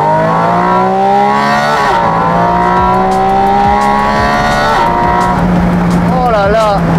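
Porsche Spyder RS in sport mode with its exhaust open revs hard through the gears, a loud rising engine howl broken by quick shift dips and crackles, heard from inside the car with someone talking over it.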